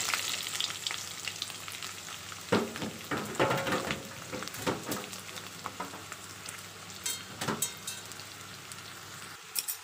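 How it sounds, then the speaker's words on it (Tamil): Small shallots sizzle and crackle in hot oil for a Tamil mutton curry, a close steady fry with occasional stirring clatter and sharper pops. "ஆயில் சூடாயிட்டு நம்ம கட் பண்ணி வச்சுருக்க சின்ன வெங்காயத்தை சேர்த்துக்கலாம்."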